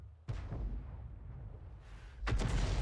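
A leFH18B2 105 mm artillery gun in a video game fires twice, each shot a heavy, booming blast: one near the start with a long rumbling decay, another about two seconds later, both loud and close.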